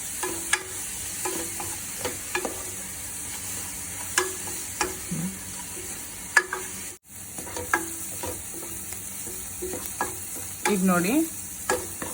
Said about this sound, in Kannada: ಸೊ ಆನಿಯನ್ ಸ್ವಲ್ಪ ಗೋಲ್ಡನ್ ಕಲರ್ ಆಗೋ ತನಕ ಫ್ರೈ ಮಾಡ್ಕೊಳ್ಳೋಣ.